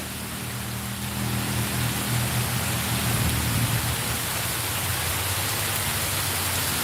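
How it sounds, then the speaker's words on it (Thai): Steady, moderate rain hissing continuously, with a low rumble of gusting wind underneath and no voices. "ฝนตกไม่แรงเท่าไหร่นะคะ"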